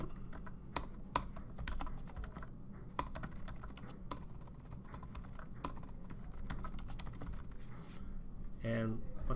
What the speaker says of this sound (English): you're just going to type the business name